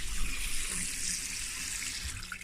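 Prawns from Clogher Head are rinsed in a colander under a running kitchen tap, a steady close hiss and splash of water for a couple of seconds with no voices.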